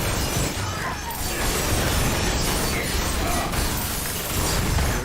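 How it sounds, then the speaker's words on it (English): In-game combat in Diablo IV with a Rogue, where a dense, continuous barrage of shattering bursts, crashes and mechanical clatter fills the scene, loud and unbroken throughout. "There's that explosion."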